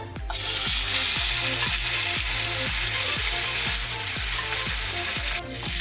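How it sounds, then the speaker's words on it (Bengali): Bata fish frying in hot mustard oil in a wok: a loud, continuous close sizzle runs throughout, with a steady rhythmic clicking underneath and no voices. "তেলটা গরম হয়ে গেছে, এবার মাছগুলো আমি দিয়ে দেবো"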